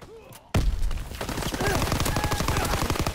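Rapid automatic gunfire from the video game Call of Duty: WW2 starts abruptly after a quiet moment, then runs as a dense, loud stream of shots for the remaining seconds.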